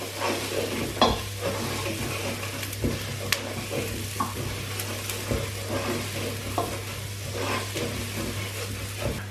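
Onion and garlic being stirred as they fry in a pan for a lamb tagine: a steady close sizzle with repeated scraping and clinking stir strokes throughout, no voices.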